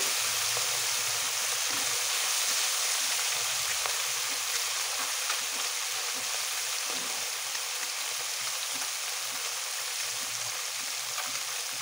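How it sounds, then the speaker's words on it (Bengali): Small mixed Padma river fish frying in hot oil, a steady, loud, even sizzle and crackle with faint pops that carries on unbroken throughout. "এখন আমি বাকি মাছগুলো আবার দিয়ে দেবো, দিয়ে ভেজে নেব"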